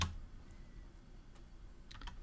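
Soft, sparse clicks of typing on a computer keyboard in a code editor, a few quiet keystrokes scattered over faint background hiss, with a small cluster near the end.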